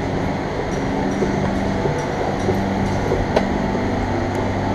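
A Bangkok airport rail link train, with a steady low rumble and rail noise throughout and a faint brief click or squeak near the end, heard from inside or close by, no talking.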